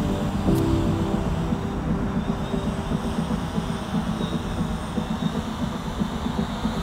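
An 8-rotor FPV cinema drone flying overhead outdoors: a steady, dense motor drone with propeller buzz, constant and moderately loud.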